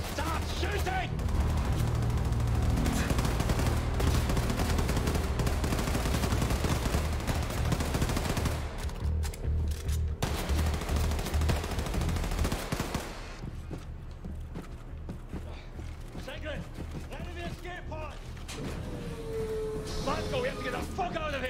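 Rapid bursts of gunfire and automatic weapon fire from the video game Wolfenstein II: The New Colossus, loud and dense for about twelve seconds, then thinning into scattered shots under voices and game noise.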